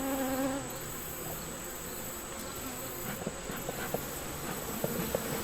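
Honey bees buzz steadily inside an open brood box during a hive inspection, a dense, continuous hum close by with small clicks and movement sounds scattered through.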